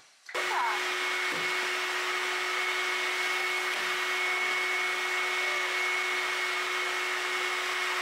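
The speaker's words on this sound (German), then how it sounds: "Und dann habe ich auch noch das andere Regal schön abgesaugt." A vacuum cleaner switches on and runs with a steady, loud whine while cleaning shelves in a bedroom, its hum continuous and close with a few faint knocks.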